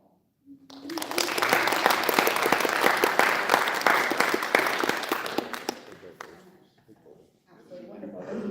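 Audience at a community drug-free coalition event bursts into loud, dense applause that swells, holds for several seconds, then thins into scattered claps as a voice resumes.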